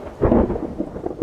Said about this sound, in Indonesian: Udah geledek tuh, nungguin hujan doang.